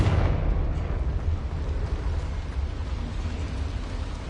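A Confringo spell from Hogwarts Legacy bursts with a heavy, booming blast at the start, then trails into a rumbling, crackling decay that stays loud and low for several seconds.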